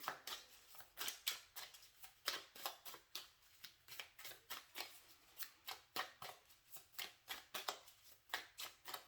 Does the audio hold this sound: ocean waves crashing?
no